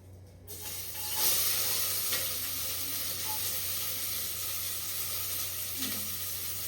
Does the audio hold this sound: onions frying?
yes